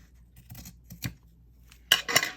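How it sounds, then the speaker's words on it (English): Fabric scissors snip during a junk-journal craft session: a few light, isolated cuts, then two louder, crisp snips close at the end, with no talking. "And I'm going to get my fabric scissors"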